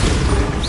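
A Bombarda blasting spell is cast in Hogwarts Legacy, a short, dense burst of explosive roar that is loud and close and fills the whole brief moment.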